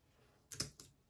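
A few quick key presses on a Bluetooth keyboard paired with a Baseus 6-in-1 Type-C hub, with three close, crisp clicks spaced within about half a second in a quiet room.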